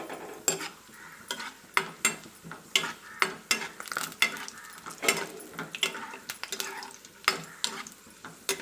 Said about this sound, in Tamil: நம்ம எடுத்து வச்சிருக்கிற திராட்சையை இது கூட சேர்த்து வறுத்துக்கலாம்